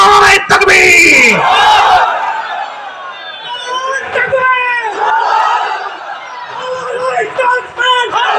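A gathered crowd answers a Nara-e-Takbir call with a loud, close collective shout of Allahu Akbar, a roaring burst lasting about two seconds, followed by softer murmuring voices and scattered calls.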